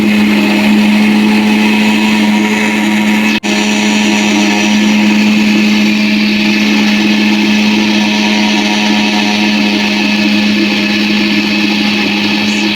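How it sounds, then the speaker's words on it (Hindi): A mixer grinder whirs loud and steady as it grinds a small onion, a continuous motor drone with a brief dip partway through. "अब इसमें छोटी सी प्याज डालूंगी और ग्राइंड करती हूँ उसे।"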